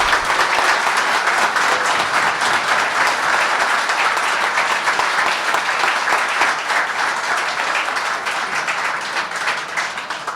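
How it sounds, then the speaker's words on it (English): An audience at a 1980 team's hall of fame induction applauds family members who came from Kansas City, full, close, sustained clapping that stays strong and only eases slightly toward the end. "I think they should draw some applause for that"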